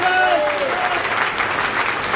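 An audience at a network marketing company event, Dolphin Travel Marketing, breaks into loud sustained applause, a dense clapping wash with a voice briefly heard over the start.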